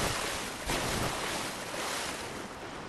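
Steady broadband wash of waves and moving water in Dark Souls III, loud and continuous with a brief surge, no talk.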